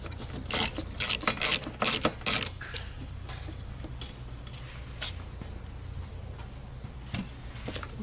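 A 10mm socket ratchet loosens the wiper arm nut during a headlamp assembly replacement on a full-size Range Rover, with a quick burst of close ratcheting clicks followed by sparse, fainter ticks and clinks of the tool.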